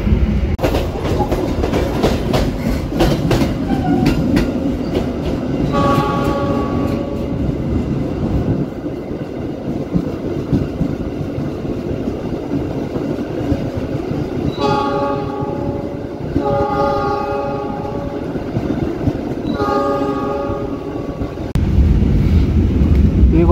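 Siliwangi subsidized passenger train running from Sukabumi toward Bandung, a steady loud rumble of cars on rails with wind buffeting the microphone and a few tonal horn-like bursts sounding partway through.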